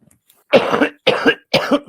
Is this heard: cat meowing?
no